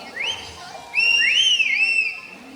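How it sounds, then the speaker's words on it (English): A bird at a safari bird show whistles a few clear, sliding notes close by, rising and falling in a short bright phrase. "a whistle."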